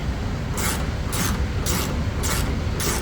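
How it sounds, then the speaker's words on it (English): A ratcheting gear wrench being turned while cleaning up threads on a 1969 VW Bus, five evenly spaced bursts of close clicking over a steady noisy background, no voices. "it's from a gear wrench. It's pretty sweet. It's like a ratcheting wrench."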